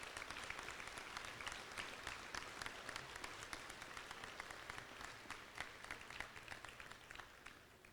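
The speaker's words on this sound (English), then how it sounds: "Let's give a big hand of applause to these nominees one more time." Audience applause fills a school awards ceremony, a steady wash of many hands clapping at an even level throughout, with no voices standing out.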